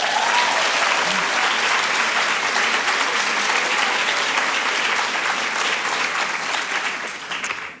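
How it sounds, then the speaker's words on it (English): Dense, sustained applause from a large reunion audience at a college address, loud and continuous for several seconds before tapering slightly at the end. "Big applause, please."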